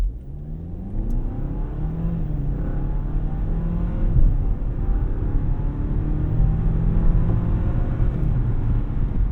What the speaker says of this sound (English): let's do a quick 0 to 60 test just from a stop here